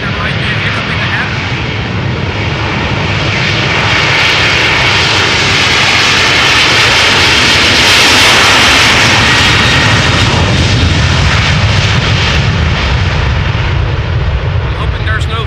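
An Airbus A330-200 jet takes off at Amsterdam Schiphol, its engines roaring loud and broad, swelling to a peak midway and holding steady as it climbs away.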